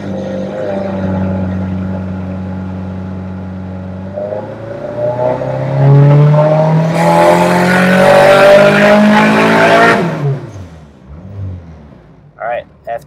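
A turbocharged EM1 Honda Civic engine on a dyno rises from a steady idle drone into a loud, climbing rev that holds near full strength, then cuts off and drops away, recorded close.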